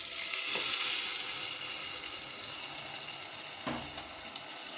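Steady sizzling and frying hiss with a couple of soft plops as thick ground spice paste is poured into a hot clay pot of bitter gourd curry.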